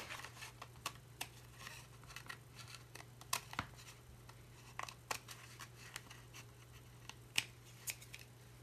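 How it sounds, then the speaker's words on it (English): Small scissors trimming tiny bits of excess tissue paper from the edges of a handmade book cover, sharp quiet snips in an irregular, close-up sequence against a low background hum. "you can see it's just very tiny bits that I'm trimming"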